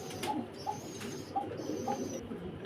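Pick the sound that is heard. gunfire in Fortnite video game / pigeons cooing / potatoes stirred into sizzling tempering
pigeons cooing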